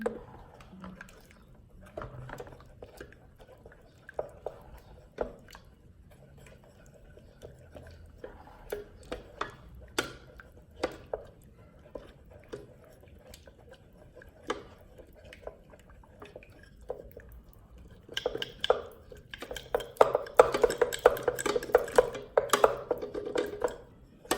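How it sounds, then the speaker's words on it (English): Cacao whisked with a traditional wooden molinillo, soft liquid swishing and light clatters building to a busier, louder frothing near the end, close and mostly without speech. "And I'm gonna use the traditional molinillo. Blend it, mix it, whisk it."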